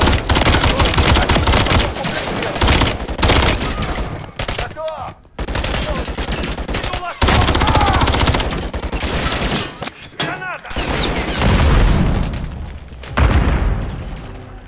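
Dense bursts of automatic gunfire and booming shots in a Call of Duty: Modern Warfare III indoor hallway firefight, loud and close, with rapid fusillades broken by brief pauses and scattered impacts.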